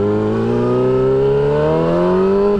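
A motorcycle fitted with an Olson Performance Shorty slip-on exhaust revs up in one loud, close, sustained rise, its deep engine note climbing steadily before easing off at the end.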